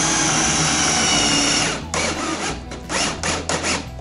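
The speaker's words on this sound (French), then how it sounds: "Une fois que c'est fait, il ne te reste plus qu'à percer" Power drill boring a hole to a tape-marked depth on the bit, a steady motor whine that breaks into short bursts and pulses as the bit bites, close and loud with no speech.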